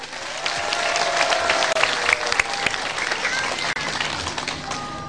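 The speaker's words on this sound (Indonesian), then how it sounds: "Tepuk tangan yang tepuk tangan." Steady audience applause fills the room at a religious talk show, dense and loud throughout with scattered sharper claps and no speech over it.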